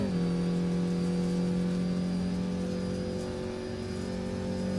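Race car engine from the rFactor racing video game, a steady loud droning tone holding one pitch with faint harmonics, continuous and close throughout, no voices.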